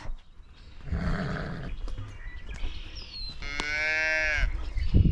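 A cow or calf on a farm lets out two loud, close moos, a shorter low call and then a long, drawn-out bellow, with faint rustling around them.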